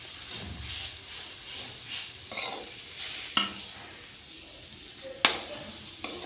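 Homemade paneer being stirred into a vegetable curry, with soft scraping strokes of a spoon against the pan over a light sizzle, plus two sharper clinks of utensil on metal.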